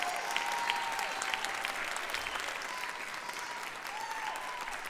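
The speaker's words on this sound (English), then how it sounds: "I want to hear you guys clap louder than you've ever clapped before." An audience at the VR Awards 2023 ceremony applauds loudly and steadily, a dense wash of clapping filling the whole stretch without a break, with no speech over it.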